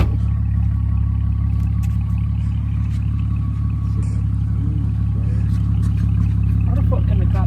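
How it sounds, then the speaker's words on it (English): A muscle car with no muffler gives a deep, steady, loud low-end growl that stays constant throughout, with people talking over it inside the car. "It was just a muscle car. Why is it growling like that?"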